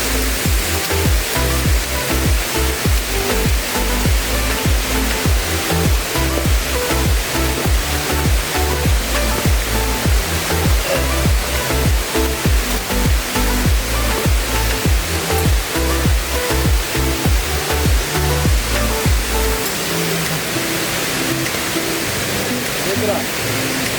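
A steady roar of falling water from the Mata Buntu waterfall in Wasuponda, Indonesia, dense and continuous, with a deep low rumble that thins out near the end.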